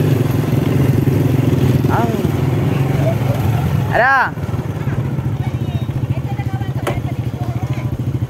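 Motorcycle engine running steadily close by, a droning idle-like putter that drops in level partway through, with people talking over it.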